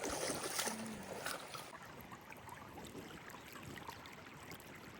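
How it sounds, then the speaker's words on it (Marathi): Clear water flows along a stream in a soft, steady trickling rush, faint and close, continuing evenly throughout with no talk. "एवढं छान पाणी निथळ पाणी वाहतंय आपल्याला"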